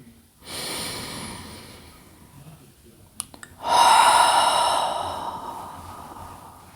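Hatha breathing in meditation, with two strong breathy exhalations, the first moderate and sighing, the second louder and longer with a rough, vibrating snort-like rush, separated by a short pause and a couple of small clicks.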